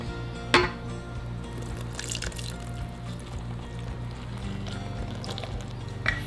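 Water mixed with yeast is poured into marraqueta bread dough in a machine, a faint trickle and splash over a steady low mechanical hum, with a sharper splash early on.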